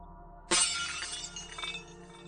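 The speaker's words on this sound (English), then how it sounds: "The sound of smashing glass filled the entire chamber." A glass bottle falls and smashes in an enclosed chamber, a sudden loud crash followed by a scatter of tinkling shards that fade over about two seconds, with no voices.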